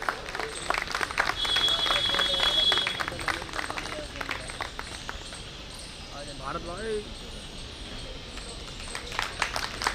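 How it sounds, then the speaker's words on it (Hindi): Audience at an engineers' association New Year celebration function applauds a guest, a dense continuous patter of clapping at moderate distance that swells early and then thins, with speech and murmuring mixed in. "स्वागत करें तालियों से"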